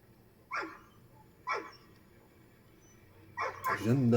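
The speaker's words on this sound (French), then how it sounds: "Bon, excusez pour le chien." A dog barks three times at a distance in an outdoor paragliding training setting, two short separate barks followed by a louder, busier burst that runs under noise near the end.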